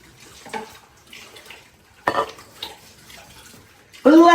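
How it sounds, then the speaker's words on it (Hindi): Dishes being washed by hand at a home sink, with soft clinks of pots and utensils and splashing water in short bursts, a brief loud clatter near the end. "अंडे वाले जो बर्तन हैं वो लास्ट पे धोना"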